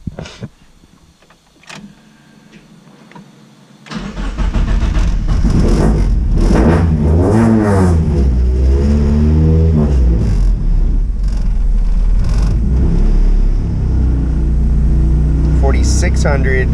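A naturally aspirated Mazda Miata track car on a dyno starts with a brief quiet idle, then roars into a loud sustained full-throttle pull, engine pitch sweeping upward in repeated rising runs.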